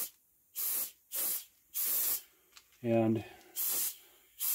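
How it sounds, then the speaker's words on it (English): A Paasche VL two-stage airbrush sprays paint onto an HO scale model locomotive in short, regular hissing bursts, about six close, steady sprays separated by brief pauses, with someone briefly talking between them. "We're painting again with the VL, Pache VL two-stage airbrush."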